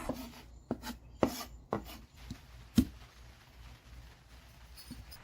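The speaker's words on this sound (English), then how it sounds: "Again, just chop them up." A knife chops firm Roma tomatoes on a board, a handful of sharp, close thuds in an uneven rhythm that fade into quieter scraping and faint background noise.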